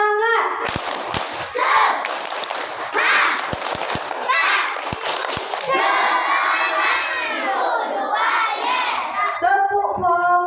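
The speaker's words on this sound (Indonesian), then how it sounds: "Tepuk semangat." A crowd of schoolchildren at an Islamic madrasa's Maulid Nabi celebration shouts a loud chant with sharp rhythmic claps, the 'tepuk semangat' clapping call, voices filling the room throughout.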